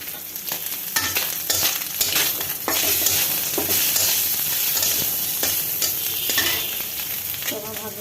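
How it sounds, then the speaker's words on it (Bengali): Fish frying in hot oil gives a loud, continuous close-up sizzle, broken by scraping stirs and occasional utensil knocks, with no talking. "মাছ ভাজা।"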